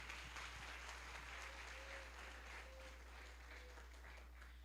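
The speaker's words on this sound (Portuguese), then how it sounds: "Aplauda Jesus recebendo, serva de Deus" Applause from a church congregation during a worship service, steady and continuous but faint and distant, with a few faint tonal notes drifting above it.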